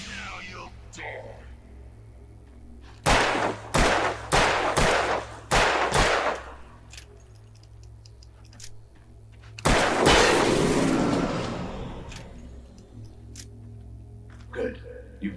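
Gunfire in the video game Alan Wake, with a run of loud shots in quick succession, then a heavier burst and a fading rumble over a low steady hum, with speech nearby.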